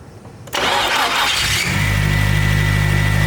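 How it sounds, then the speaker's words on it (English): A Nissan 240SX with a freshly built SR20 engine cranks briefly with the starter whirring, then catches and settles into a loud, steady idle nearby. "I got Austin starting this thing for me so I can watch her leak or not"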